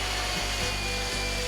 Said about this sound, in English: On the outside I do the dusty sanding.